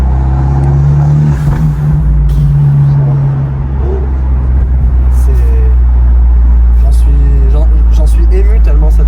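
A loud, close car engine hums steadily with a deep, droning tone while someone talks over it.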